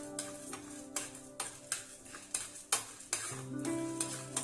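Urad dal fries in a pan for coconut chutney while a spoon scrapes and stirs it in quick repeated strokes, over a soft, steady sizzle.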